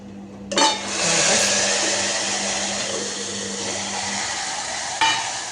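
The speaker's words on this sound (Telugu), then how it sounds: "ఇక్కడైతే మంచిగా తాలింపు అయితే ఇచ్చేస్తున్నాను" Hot tempering being poured into cooked dal, a sudden burst of loud hissing sizzle that settles into a steady, gradually fading crackle, with a second sharp flare near the end. No one speaks.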